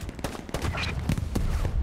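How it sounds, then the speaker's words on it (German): A distant exchange of gunfire in the World War II video game Hell Let Loose, with a run of irregular rifle and machine-gun shots popping over a dense rumbling battle backdrop. "Warum schießen die da runter?"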